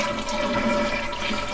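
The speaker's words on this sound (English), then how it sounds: "But let's drain the tank." A toilet tank drains as it is flushed during a bidet seat installation, a steady close rushing and gurgling of water filling the short moment.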